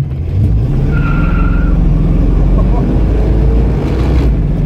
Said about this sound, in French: on fait une petite accélération